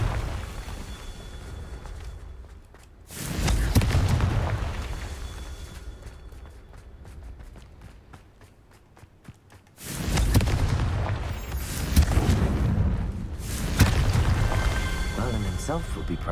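Confringo spell blasts go off in the video game Hogwarts Legacy: two loud, booming bursts with long rumbling tails, separated by a quieter stretch, with a voice calling out in between.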